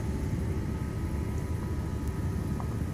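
Helicopter flying in an FSX multiplayer flight simulator session, a steady, dense rotor-and-engine drone with broadband rushing noise, continuous and unchanging for a few seconds with no talk.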